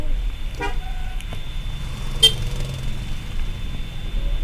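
A car horn gives a short toot on a road in Indonesia, on a shortcut route to Salopa, sounding once amid low steady engine and road rumble.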